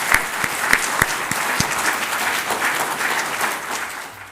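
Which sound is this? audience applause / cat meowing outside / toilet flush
audience applause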